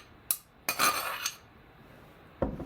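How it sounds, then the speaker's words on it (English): A utensil scrapes and clinks against the sides of a bowl of pizza sauce for a Margherita pizza: one sharp tap, a longer scraping stroke, then another knock after a pause, all close by. "I can kind of scrape the sides down"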